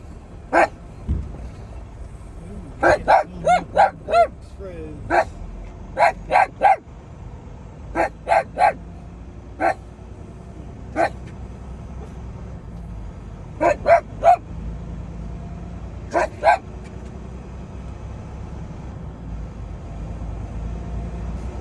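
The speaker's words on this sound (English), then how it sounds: "Are we done barking now?" A dog barks inside a truck cab, sharp close-up barks coming in irregular bursts of single and clustered yaps over a steady low engine rumble.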